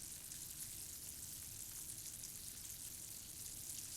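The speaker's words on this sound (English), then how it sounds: "you want to boil your sugar on high heat without stirring" Sugar syrup boils hard on high heat, unstirred, on its way to 242°F thread stage for besan burfi, giving a dense, steady bubbling hiss that holds evenly from start to end with no voices.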